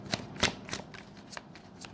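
Tarot cards are shuffled in several quick riffling bursts, each a short crisp flutter with small pauses between, close and fairly quiet with no talking.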